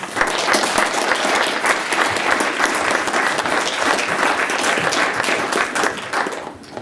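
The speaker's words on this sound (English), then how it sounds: "Let's just have another big round of applause for Bruce." Audience at the Ontario Civil Liberties Award ceremony bursts into loud, sustained, dense applause that carries on steadily for several seconds before beginning to taper off at the end.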